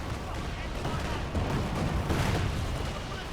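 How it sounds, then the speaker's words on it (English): Incoming artillery fire in Company of Heroes 2 rumbles as a dense, continuous barrage of muffled blasts and crackling battle noise, fairly loud throughout with no distinct single impacts standing out. "look at that artillery coming in"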